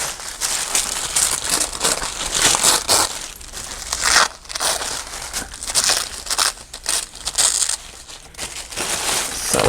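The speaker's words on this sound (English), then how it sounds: "I'll just tear it the old-fashioned way." A paper page torn by hand for a junk journal layout, close and fairly loud crinkling and ripping in repeated bursts, with no talk.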